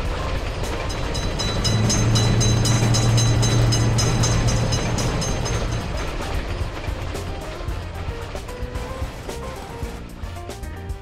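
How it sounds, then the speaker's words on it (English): A fast train runs through a road level crossing, a loud, steady roar of wheels and wagons close by with continuous rail clatter that gradually fades as it moves away. "Quick train is noticed!"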